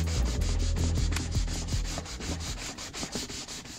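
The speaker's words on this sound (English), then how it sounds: "Are you sanding in the lower saloon in front of the heater?" Continuous rhythmic hand sanding of teak boat steps in a sailboat's lower saloon, steady scraping strokes close by, loud at first and easing slightly toward the end.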